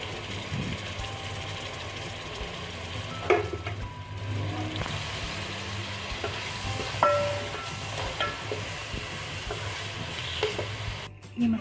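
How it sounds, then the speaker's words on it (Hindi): Masala with tomatoes, ginger-garlic paste and spices fries in a pot, a steady low sizzle with occasional spoon scrapes and clinks, close, and nobody speaks. "ये मसाला भून रहा है"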